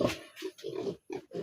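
Pigs at a pig farm in Assam give a run of short, throaty grunts in quick bursts with brief gaps between them, close by and fairly clear, with no speech.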